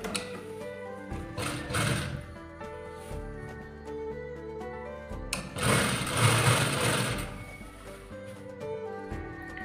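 A sewing machine runs a seam along double-folded chudidar salwar fabric, its motor whirring in two main bursts with softer stitching between, close and fairly loud with no talking.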